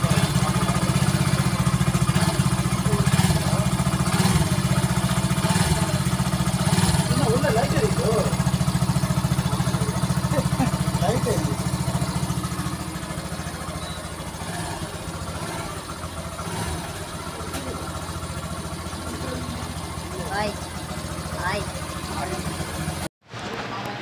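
A Yamaha FZ V3 motorcycle engine running steadily at idle after a Liqui Moly engine flush treatment, a close, continuous low rumble that eases slightly partway through, with someone talking over it.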